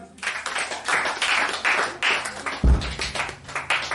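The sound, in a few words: congregation applauding for Jesus in church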